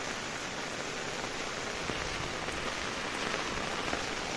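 Steady heavy monsoon rain pours onto surfaces during a stormy walk near a bridge, an even, unbroken hiss of drops with no letup.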